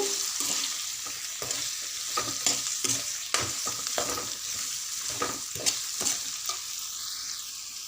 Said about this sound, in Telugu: ఈ అరటికాయ ముక్కలు నూనెలు మంచిగా వేగనివ్వాలి